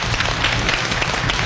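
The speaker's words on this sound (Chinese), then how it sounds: "咱们也掌声给他们喝彩一下吧" Dense audience applause on a Chinese television talk show's Spring Festival special award segment, a steady, even wash of many hands clapping at once, fairly loud and without pause.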